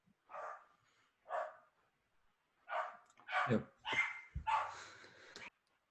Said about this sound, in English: I heard a dog barking